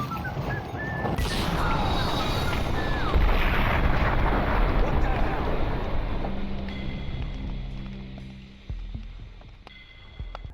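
A red canister explodes after being shot in Max Payne, a loud crashing blast with a rumbling tail that slowly fades, followed by a few sharper clanks near the end.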